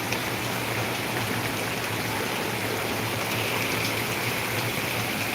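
Heavy downpour in Ahilyanagar, a steady dense hiss of falling rain and running water that holds even and unbroken throughout, with no voices.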